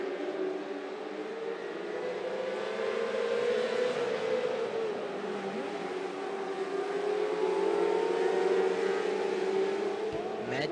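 600R mini sprint race cars circling a track during a race, a steady high-pitched engine drone from several cars with shifting pitch as they pass, heard from a distance and continuous throughout.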